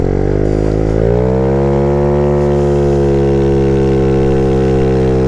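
A Rex 80cc scooter engine revs up as it accelerates, its steady harmonic drone rising in pitch and then holding at high rpm, loud and close throughout with no talking.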